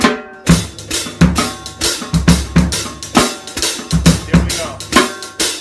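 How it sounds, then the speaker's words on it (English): Hand-to-hand triplets played on a snare drum on a drumset, a steady run of sharp, bright strokes in an even rolling pulse with accented beats, close and loud. "hand-to-hand triplets with the snare drum"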